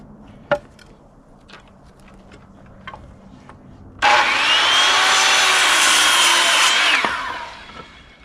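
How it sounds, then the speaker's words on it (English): A power saw cuts through wood for about three seconds, a loud close buzzing rasp that starts abruptly and winds down, preceded by a few faint knocks and handling sounds. "let's go ahead and get this cut."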